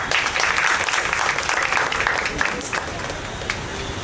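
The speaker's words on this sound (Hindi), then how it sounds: "एक जोरदार ताली हो जाए।" Sustained applause from a theatre audience after a stage play about Ahilya Bai, honouring a young performer; dense, steady clapping throughout, fairly loud and even.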